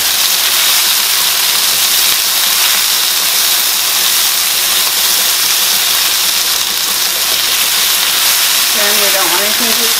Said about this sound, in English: Now let's add our shrimp.